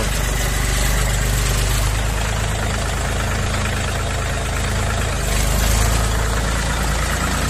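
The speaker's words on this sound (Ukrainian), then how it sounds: "Ось так звучить трактор, якому 0 мотогодин." A brand-new 40-horsepower mini tractor engine with zero engine hours idles steadily with a low, even rumble, close and continuous, swelling slightly near the end.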